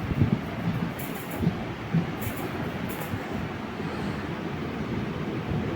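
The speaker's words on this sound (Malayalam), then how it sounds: "കൊല്ലത്ത് നിന്ന് നാഗർകോവിൽ ജംഗ്ഷൻ വരെയുള്ളൊരു ചെറിയ ട്രെയിൻ ജേണിയാണ് ഈ വീഡിയോയിൽ ഉദ്ദേശിക്കുന്നത്" A Kollam to Nagercoil passenger train runs along the line, giving a steady rumbling roll heard from on board with faint periodic clatter and occasional brief high squeals, with no voices.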